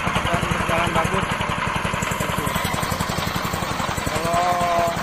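Floating fish feed pellet machine with its engine running, a steady rapid mechanical pulsing throughout, loud and close, with a faint whine near the end.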